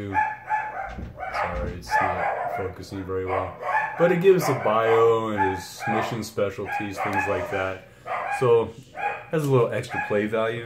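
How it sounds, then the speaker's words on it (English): Dogs bark intermittently in the background of a home room while someone talks steadily over them through most of the stretch. "Sorry for my dogs in the background."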